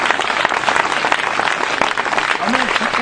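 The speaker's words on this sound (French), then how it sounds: "Est-ce qu'on peut acclamer Jésus?" Church congregation applauding and cheering loudly to acclaim Jesus, a dense, steady wash of clapping and voices filling the whole stretch, with a brief vocal shout rising near the end.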